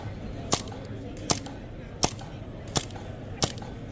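A CO2-powered training simulator gun fires five sharp cracks at roughly even intervals, each a crisp snap of released gas over a quiet room hum.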